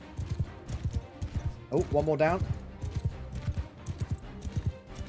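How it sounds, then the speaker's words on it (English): Horse hooves in Mount & Blade II: Bannerlord clip-clop in a steady close rhythm throughout, briefly under a short spoken remark. "Oh, that's a horse."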